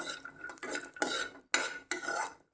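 Walnuts dry-roasting in a pan are stirred with a utensil, giving several bursts of scraping and rattling against the metal with short pauses between them, close by and with no voices.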